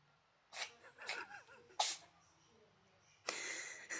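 A pet cat sneezes several times in quick succession, close and fairly loud, with short snuffling breaths between the bursts and a longer breathy sound at the end.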